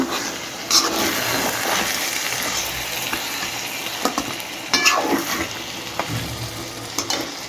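Shrimp and white fish being stir-fried in a pan, a loud, steady sizzle broken by scraping and clattering stirring strokes at irregular intervals.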